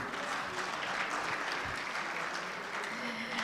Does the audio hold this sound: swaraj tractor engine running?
no